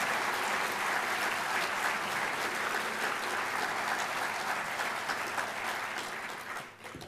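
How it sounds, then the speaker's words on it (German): Sustained audience applause following a lecture on society and democracy, steady dense clapping at even loudness throughout, tapering slightly at the very end, with no voices over it. "Applaus"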